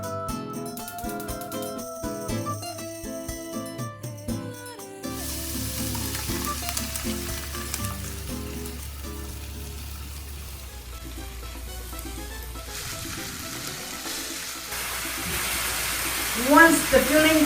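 Ground beef with taco seasoning and beef broth sizzles in a pan, a steady hiss that follows a stretch of background music and swells into louder bubbling near the end.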